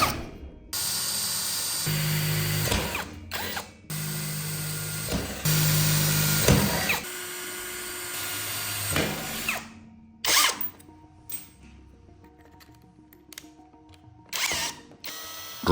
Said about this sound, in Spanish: Roscamos todos los agujeros a métrica 4.